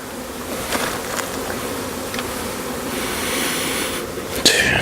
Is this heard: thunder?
no